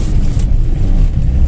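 A Lada 2108 with a 1.3 carburetted engine and tuned Solex carburettor roars steadily and loudly with a rough low rumble, wheels spinning in second gear as it accelerates hard, wind noise over it.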